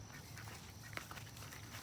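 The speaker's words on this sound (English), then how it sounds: "I got 2 more ducks." Ducks on a Kentucky farm, two females and a male, with a faint quack or two in the background over steady low hum and outdoor noise.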